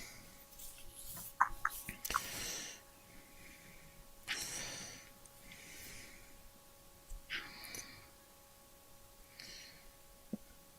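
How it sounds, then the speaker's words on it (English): Soft close breathing from a person sitting right beside the camera at a night sky-watching livestream in Christchurch, New Zealand, with occasional snorts and sighs against a quiet background hum. "So it probably was him we could hear breathing before then."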